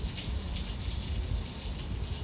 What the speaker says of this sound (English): I'm water testing that wall there above the planter box wall